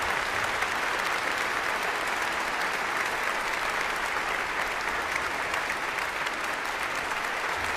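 A concert audience in Vienna applauds a piano performance with sustained, dense clapping, a steady wash of many hands heard at a moderate distance without pause.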